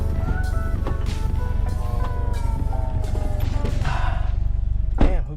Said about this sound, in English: we're about to drive these cars one by one and we're gonna get a reaction out of how they sound.